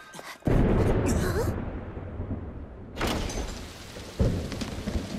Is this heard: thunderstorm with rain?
yes